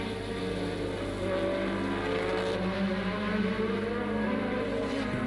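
1984 Formula 1 cars, a Brabham BMW and an English Lotus with a French Renault engine, racing at Zolder in Belgium, a sustained loud high-revving engine howl with pitch shifting as the cars pass.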